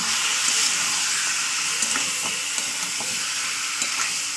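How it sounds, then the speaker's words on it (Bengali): Meat is stir-fried in hot oil for a Bengali bottle gourd and meat curry, a moderate steady sizzle broken by repeated clinks and scrapes of a spoon against the pot, with no voices. "এবার মাংসগুলোকে এবার আমি একটু কষিয়ে নেবো"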